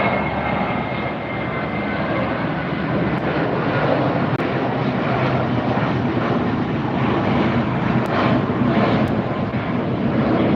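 A JetBlue airliner in Mosaic livery departing Los Angeles airport makes a loud, sustained engine roar, with some wind rumble on the microphone and no voices.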